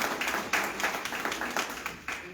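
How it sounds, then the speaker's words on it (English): An audience at a community candidates forum gives a round of applause, steady mid-distance clapping from many hands filling the whole moment without talk. "Let's give them another round of applause."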